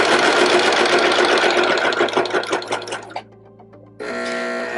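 Serger sewing machine stitching a seam on fabric, a loud steady mechanical whir running continuously, easing and slowing briefly near the end before starting up again at full speed.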